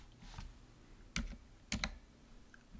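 A few sharp keystrokes on a computer keyboard, separate clicks with a quick double tap near the end, close and fairly quiet against a soft room hiss.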